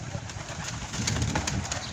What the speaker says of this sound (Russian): Решили вот поднять голубей с утреца.